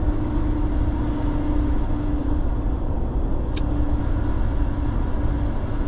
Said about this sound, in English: I forgot how loud this rear differential is on this truck.